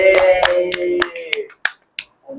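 Children in a class clap in several sharp claps in a quick, irregular series, about eight in all, close and distinct with brief gaps between them.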